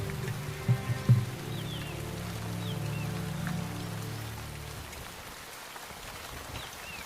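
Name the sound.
heavy rain downpour in Indian jungle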